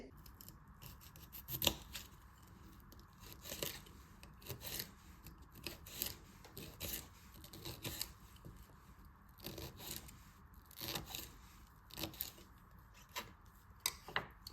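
A knife slicing raw broccoli, a steady series of crisp, crunchy cuts at a close, even pace with no voices.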